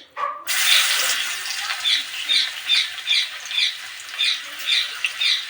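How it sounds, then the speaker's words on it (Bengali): Chopped garlic hitting hot oil with two dried red chillies, a steady bright sizzle that starts abruptly and keeps crackling with rhythmic pulses, close and alone without talk. "এর মধ্যে এবার দিয়ে দেবো রসুন কুচি"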